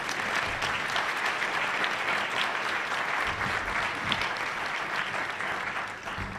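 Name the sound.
luncheon audience applause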